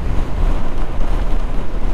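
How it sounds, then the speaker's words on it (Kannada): A heavy crosswind roars over a motorcycle on a high-altitude highway near Hanle and Tsokar. The loud, continuous rumbling buffet of wind noise fills the mic throughout and drowns out everything else. "ಹೆವಿ ಕ್ರಾಸ್ ವಿಂಡ್ಸ್ ಬರ್ತಾ ಉಂಟು ಟುವರ್ಡ್ಸ್ ಲೆಫ್ಟ್ ಸೈಡ್"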